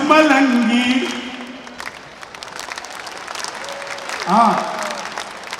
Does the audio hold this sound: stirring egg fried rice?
no